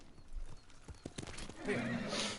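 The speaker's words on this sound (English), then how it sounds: "Horse. There he is. There's my horse boy there." In Ghost of Tsushima, a horse's hooves clop in a quick uneven run of close thuds, then the horse gives a loud rising whinny near the end.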